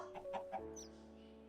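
A chicken clucks a few quick times up close in Minecraft, followed by a sustained tonal hum and a brief high chirp.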